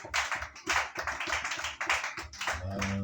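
Church congregation clapping hands in rhythmic, steady bursts during a lively worship service, loud and close, with singing voices rising near the end.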